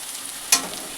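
Onion, capsicum and green chilli fry in a pan for a cauliflower bhujia. There is a faint, steady sizzle with one sharp scrape or clink of a stirring utensil midway, and no talking.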